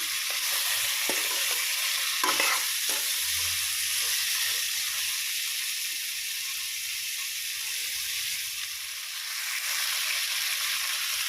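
Meat and potato pieces frying in a pan, a continuous close hiss and sizzle with a few sharp stirring scrapes and clinks early on, then steady bubbling frying with no voices.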